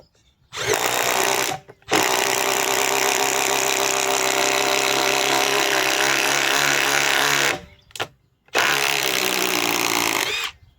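A Milwaukee M12 brushless subcompact impact driver (3450-20) bores with a spade bit, a loud continuous hammering whir in three long bursts separated by brief stops.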